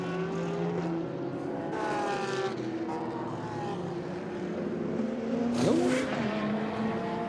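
A race car at the Dubai 24 Hours enters the pit lane, engines droning and shifting pitch at moderate distance, with a brief sharper pass near the end and other cars faintly in the background.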